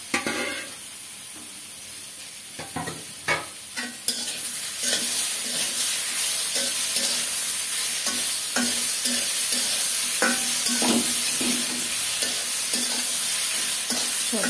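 Spices, grated tomato and vegetables sautéing in a pan, with scattered clicks and knocks of a utensil at first, then a continuous loud sizzle punctuated by repeated stirring scrapes, heard up close with no speech.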